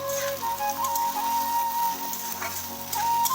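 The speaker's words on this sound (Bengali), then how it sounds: "এবার কেটে রাখা ক্যাপসিকামগুলো দিয়ে দিচ্ছি" Onions and capsicum frying in a pan, a steady close crackling sizzle with occasional sharper spatters and a faint tonal hum underneath.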